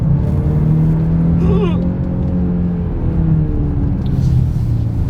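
A Genesis GV70 engine revs up and rumbles as the gearbox drops gears, a deep steady drone with a rising, sweeping pitch, close and loud throughout.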